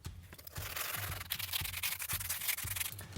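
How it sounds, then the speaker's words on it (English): The inside rim of a glass cloche base is sanded with quick, rhythmic back-and-forth scratching strokes, close and steady throughout. "we also need to sand the inside rim of our base where it's going to be glued"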